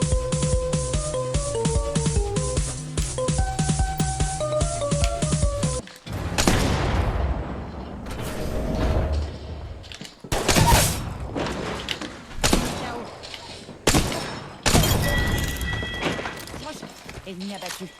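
Gunfire in the video game Apex Legends breaks out after a stretch of tonal game music, with sharp shot bursts and thuds separated by brief pauses across the fight.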